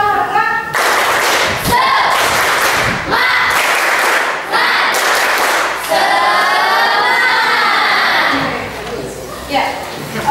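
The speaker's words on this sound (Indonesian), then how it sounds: "yuk kita tepuk semangat dulu" Children in a classroom perform the tepuk semangat clapping chant, with loud bursts of rhythmic group clapping and thumps mixed with their chanting voices, pausing briefly between phrases.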